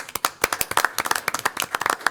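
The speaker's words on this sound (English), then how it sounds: "Give a little applause there for that." Attendees at a city council meeting give brief applause. A small group claps in sharp, distinct, uneven hand claps at close range for about two seconds, with no talking over it.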